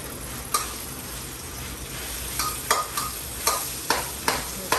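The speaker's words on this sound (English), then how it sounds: "sear the beef here" Beef sears in a pan for a traditional Chinese dish, a constant sizzle broken by sharp spatula scrapes and taps that repeat roughly every half second toward the end.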